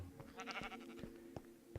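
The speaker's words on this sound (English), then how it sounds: "we're here in the nether hanging out with this sheep" A Minecraft sheep bleats in the Nether, a near, clear wavering cry that repeats a few times over a faint low game ambience.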